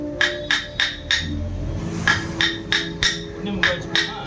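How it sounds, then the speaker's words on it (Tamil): A chisel is struck against wood while a spear-shaped vel is carved, giving sharp knocking taps in an uneven rhythm, close and clear, with a short gap midway and faint background hum. "தேவையில்லாத பகுதியெல்லாம் கட் பண்ணி உளியால் கட் பண்ணி எடுத்துடுறாங்க"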